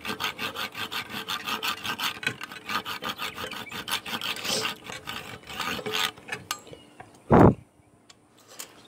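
A file rasps steadily back and forth, cutting a small notch in a gun trigger part held in a vise, with a continuous rhythmic scraping that stops near the end, followed by one loud close knock.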